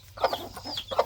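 A mother hen clucks with a few short, throaty calls in quick irregular succession, close by over a low background hum.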